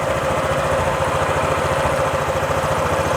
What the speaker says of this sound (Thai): มาฟังเสียงของเครื่องยนต์กันนะครับเครื่องยนต์เดินเบานิ่งเงียบปกติ